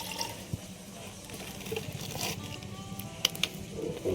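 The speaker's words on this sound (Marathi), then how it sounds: "आता पाणी टाकलं." Water is poured into a metal cooking pot to make tea, a faint, steady trickle and splash against quiet household background noise, with no one talking.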